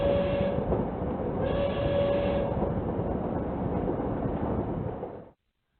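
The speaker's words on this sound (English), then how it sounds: "We step off the train and into another world." Train rumble from the video game Heart of the Woods, a steady rolling roar with a faint whistle-like tone, holding evenly for about five seconds before cutting to silence.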